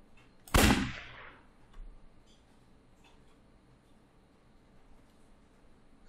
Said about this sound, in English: Now let's try shooting from this direction.